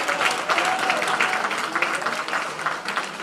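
Clapping from a modest crowd at a college golf team's NCAA selection show, brisk and uneven, continuing throughout with a few indistinct voices underneath.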